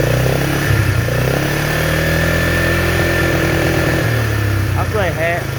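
A Polaris Trail Boss 325 ATV with a carburetor problem runs steadily close by, its engine droning at a fairly even part-throttle pitch that dips slightly near the end, with a voice talking over it.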